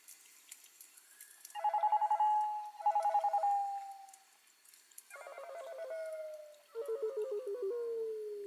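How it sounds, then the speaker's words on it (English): A cell phone rings in a dark, quiet room during an overnight stream, with several bursts of a warbling electronic ringtone that start and stop, fairly loud against near-silence. "I remember hearing my cell phone ringing throughout the night."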